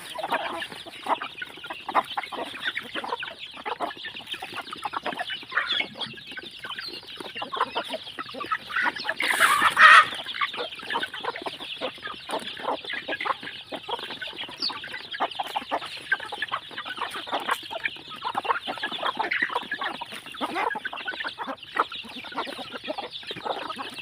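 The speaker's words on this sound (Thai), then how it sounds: "าหารไก่เช้านี้พี่น้อง" A flock of chickens clucking busily and continuously at morning feeding time, pecking at pellets and bran, with a dense chatter of overlapping calls that swells briefly in the middle.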